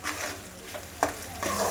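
Cashew paste cooks in hot oil with whole spices in a pan, a soft steady sizzle broken by brief stirring scrapes, close and alone.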